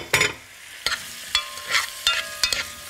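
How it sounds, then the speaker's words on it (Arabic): Onion frying in a pan as it is stirred, with crisp sizzling broken by several sharp spatula scrapes and taps at an irregular pace, close and fairly loud, with no talking. "اهو هحط بصل البصل بيحليها قوي"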